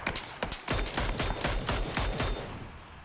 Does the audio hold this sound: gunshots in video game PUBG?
yes